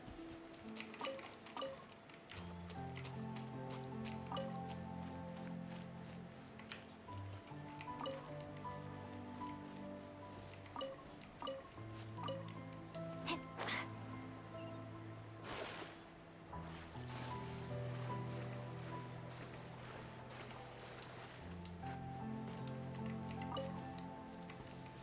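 Water from a waterfall drips and splashes in scattered, irregular plinks and splats over a steady low background, faint and close, continuing throughout without talk.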